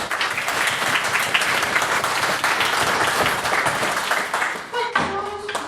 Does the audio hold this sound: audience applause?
yes